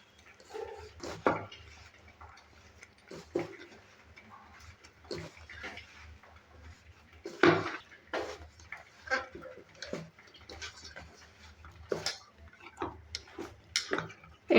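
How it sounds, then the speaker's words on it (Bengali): Hands kneading soft dahi paratha dough made with yogurt, giving sporadic sticky slaps and squelches with quiet gaps between, close up and fairly faint, alone without talk. "হাতের সাহায্যে মেখে নেব।"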